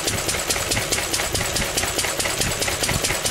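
An old petrol engine with pre-electronic ignition runs close by with a rapid, even chugging beat and clattery mechanical knocks, loud and steady throughout.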